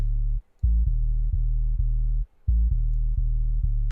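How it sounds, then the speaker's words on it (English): A deep, clean sub bass plays a repeating pattern of short and sustained low notes, punchy and close, with brief silent gaps between phrases. "Just a very clean, punchy sub."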